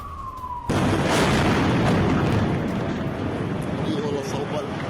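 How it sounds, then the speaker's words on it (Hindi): A deep, roaring blast from an Israeli air strike in the Al Nasir area of Gaza, breaking in abruptly after a faint whine and rumbling loudly on, with a distant siren-like tone toward the end. "अल नसीर इलाके में बड़ी air strike Israeli defence forces की तरफ से की गई है"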